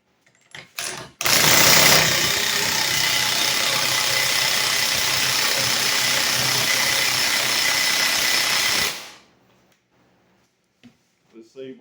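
A Snap-on 18V cordless power tool whirs loudly and steadily for about seven seconds while tightening, then winds down to silence, with brief handling knocks before and after.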